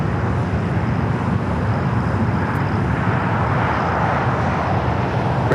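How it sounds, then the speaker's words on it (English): An Embraer E2 jet takes off from the south side of LAX, a loud sustained broadband engine roar heard from a distance without speech. "The E2 up next for takeoff here on the south side."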